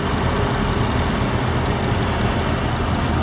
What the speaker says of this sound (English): You can hear the engine just purring away like brand new.